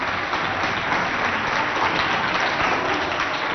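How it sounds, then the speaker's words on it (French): An audience applauds for a supervisor, dense continuous clapping from many hands forming an even, loud wash of sound with no pauses. "Nous allons applaudir pour notre encadreur"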